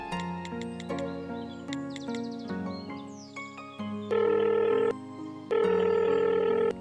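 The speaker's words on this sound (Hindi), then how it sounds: "फिर फोन मिलावेंगे।" Rapid telephone dialing tones, a run of short pitched beeps over a steady tonal hum, followed by two long bursts of ringback or line tone, loud and close with no voices.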